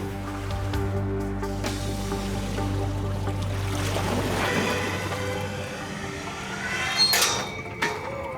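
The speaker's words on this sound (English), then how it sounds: "They hope the inrush of water to the empty box will drive the vortex effect." Water rushing in around a weighted box loaded with 200 pounds as it sinks and pulls a vortex, a heavy underwater rumble and churn that thins out, then a few sharp splashy bursts near the end.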